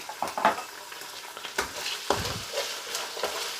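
Garlic ginger paste and chopped green chillies sizzle in a hot pan while being stirred, with scraping strokes and bursts of frying crackle coming at an uneven pace.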